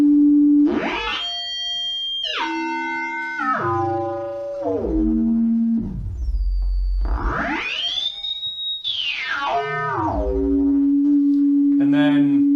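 A WMD modular synthesizer PLL module produces a loud, ringing FM-like tone that sweeps in stepped glides down and up in pitch, bright and metallic, with harmonics shifting over about twelve seconds and no speech.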